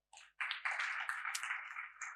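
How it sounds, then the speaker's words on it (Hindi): An audience at a residential workshop session breaks into applause, a fairly quiet but dense wash of many clapping hands that starts suddenly and keeps going steadily. "आप सबके लिए जोरदार तालियां"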